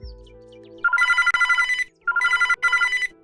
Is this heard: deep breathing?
no